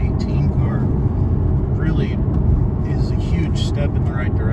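Inside a Porsche 718 fitted with a DSC Sport controller, steady road and engine rumble fills the cabin on a bumpy road, with faint voices underneath.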